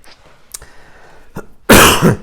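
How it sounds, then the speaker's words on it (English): A man in his late fifties coughs after a hard calisthenics workout of pull-ups, burpees and squats: a few small throat sounds, then one loud, close, rough burst of coughing. "Still coughing a bit as a result of it."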